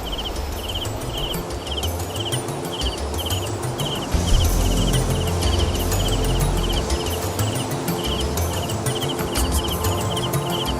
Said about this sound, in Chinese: 圆月在虫鸣声中悄悄爬上枝头。